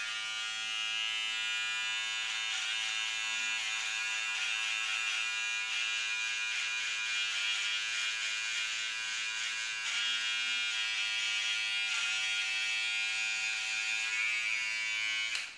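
An electric beard trimmer running continuously on upper lip hair, a steady close-up high-pitched motor buzz with slight changes in tone as it cuts, stopping abruptly at the end.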